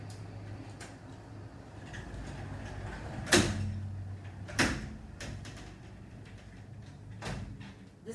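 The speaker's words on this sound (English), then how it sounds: "So I'm going to walk over there and close that door." A door is pushed shut indoors, with a couple of sharp knocking clunks and a sliding rattle standing out over a low continuous hum and faint traffic noise outside.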